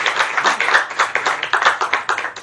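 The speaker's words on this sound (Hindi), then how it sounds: "उनके लिए जोर से एक ताली हो जाए।" A crowd applauds steadily and loudly at a Hindi spiritual discourse, many hands clapping close together in a dense, continuous patter with no talk over it.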